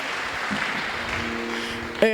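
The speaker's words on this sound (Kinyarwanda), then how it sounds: "mubakomera amashyi dushima n'Imana" A congregation claps in praise during a church prayer service, a continuous wash of applause that ends as a brief voiced or tonal sound cuts in near the close.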